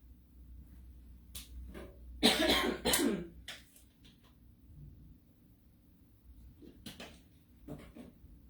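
Several coughs from one person, a loud cluster in the middle and a few softer single coughs later, with quiet in between.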